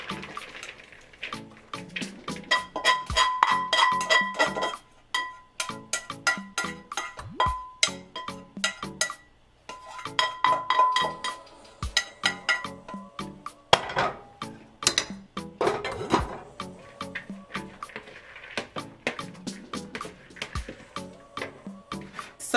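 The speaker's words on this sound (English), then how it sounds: "So I'm also going to go ahead and get these lentils out of the pot as well." Cooked lentils scooped from a pot into a bowl in a home kitchen, with repeated metallic scrapes and clinks of a utensil against cookware and wet, soft plops, irregular and close throughout, without speech.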